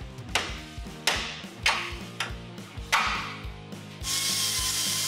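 A leaf spring U-bolt being fitted and tightened on a 1985 Chevy K10, heard as a series of ratcheting metallic clicks with rough scraping, close and fairly loud, ending in a steady hiss.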